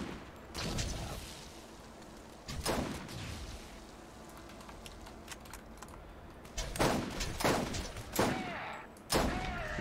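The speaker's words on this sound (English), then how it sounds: "I'm just gonna shoot that barrel." Gunshots in Borderlands fired at a barrel: sharp, broadband cracks in several separate bursts, one near 0.7 s, another near 2.5 s and a tighter cluster around 7–9 s, over a steady low game background.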